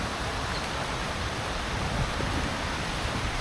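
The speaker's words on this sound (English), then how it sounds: "It's great to be showering by rain." Steady rain falls outdoors under trees, a dense, even hiss of drops with no pauses, fairly loud and close, with no talking over it.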